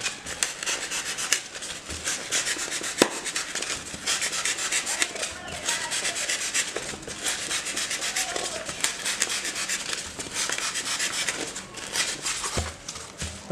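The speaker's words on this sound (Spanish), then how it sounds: "cogemos nuevamente el bisturí y hacemos un corte" A scalpel blade drags through a block of styrofoam (unicel) along a marked line while carving a plant pot, giving a continuous close scratchy rasping with occasional squeaks and ticks, heard alone.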